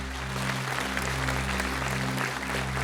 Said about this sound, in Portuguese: Você pode celebrar com palmas e glorificar o nome do Senhor?